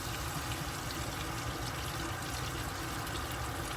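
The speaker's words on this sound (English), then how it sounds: "Now that we have our butter all nice and melted, I'm gonna go ahead and add my snapper to the pan." Snapper fillets go into melted butter in a hot pan and sizzle. The frying hiss is steady, dense and close, continuing alone without a break.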